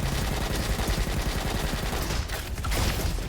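Rapid automatic gunfire rattles continuously from the shooter game Roboquest, loud and close in dense bursts, with no talk.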